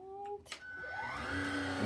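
A cordless stick vacuum cleaner, used on dog hair, switches on and its motor whine climbs in pitch, then holds a steady, growing whir close by.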